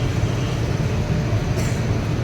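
A Vande Bharat train pulls into Veraval with a steady, dense low rumble of wheels and carriage noise, close and unbroken with no voices.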